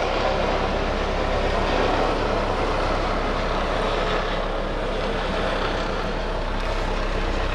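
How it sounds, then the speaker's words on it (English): Helicopter flying overhead, a continuous loud rumbling engine and rotor drone that holds steady for several seconds with no talk. "One moment while the helicopter goes by."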